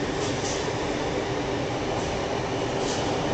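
A Sydney suburban train crossing a bridge gives a steady, loud rumble and roar of rolling carriages, continuous throughout with no talk.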